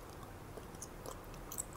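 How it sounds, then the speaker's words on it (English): Ben 10 sugar-free watermelon bubble gum, thick and hard, is chewed up close, giving faint, soft, moist clicks and smacks against a quiet background. "Though there's like a lot of chewing going on."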